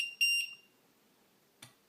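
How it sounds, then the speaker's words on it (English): A low-voltage alarm on a lithium battery pack fitted to a Black and Decker drill gives two short, sharp electronic beeps close by, then falls silent apart from a faint click. "This is my low voltage alarm."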